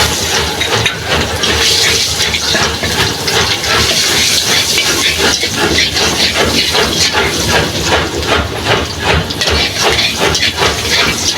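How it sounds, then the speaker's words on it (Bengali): Chopped onion sizzling in hot oil right after fish has been fried, a loud, dense hissing crackle that runs continuously and close up, with no talking. "তেলের উপরে সামান্য পেঁয়াজ কুচি দেব।"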